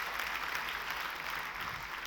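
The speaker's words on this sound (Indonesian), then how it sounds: "kalau mau tepuk tangan yang paling meriah saudaraku" Church congregation during a sermon claps together in a steady, even wash of applause, sustained and moderately loud, with no speech on top.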